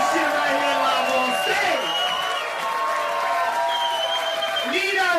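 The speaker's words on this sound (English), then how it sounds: "put your hands together for both of these brothers up here" A live audience on a Los Angeles stage applauds and cheers, clapping and whooping throughout while a host speaks over the crowd.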